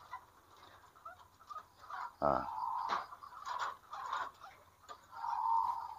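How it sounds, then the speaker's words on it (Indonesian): Zebra dove (perkutut) giving short squeaky ngik calls, several brief high notes scattered over a few seconds with a longer call near the end, fairly close over a quiet background. "dengar ya suara perkutut ngik itu"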